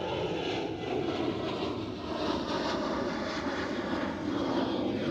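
A KLM Boeing 777 in Orange Pride livery at Amsterdam Schiphol passes with a sustained jet roar, loud and steady for several seconds with a slowly shifting tone.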